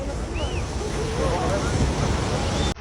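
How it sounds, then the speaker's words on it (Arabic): High Mediterranean Sea waves crash and roar continuously at close range, mixed with heavy wind buffeting the microphone, ending abruptly. "الموج عالي جدا"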